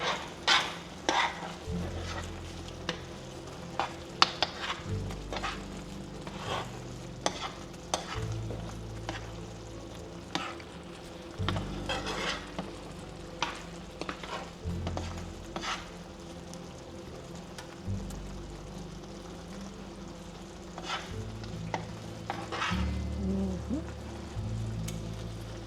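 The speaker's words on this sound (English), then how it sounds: "Now, I'll get it warmed up a little bit. Let it start boiling again." Liquid for Appalachian fried green tomatoes heats in a pan, giving a soft continuous simmer broken by repeated clinks and scrapes of stirring, with a low hum pulsing on and off underneath.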